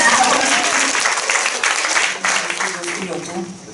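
Studio audience applauding a guest named Michał on a Polish talk show, dense steady clapping from a large crowd, loud throughout and tapering slightly near the end.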